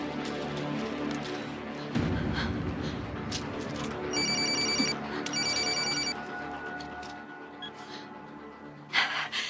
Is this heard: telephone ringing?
yes